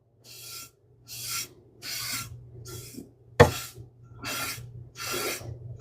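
Superfine steel wool rasps along a rifle barrel to strip surface rust, heard as seven short rhythmic strokes separated by brief pauses, close and fairly quiet, with one sharper scrape in the middle.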